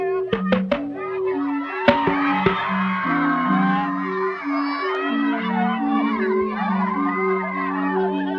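A village crowd waits at Campo Loro with children shouting and whooping, a steady busy murmur. A few sharp knocks come early, and tonal calls rise and fall throughout.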